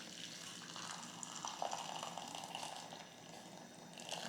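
Noodle broth poured from a pot into a bowl of instant noodles, a soft continuous trickling stream that runs close and steady for a few seconds, no voices.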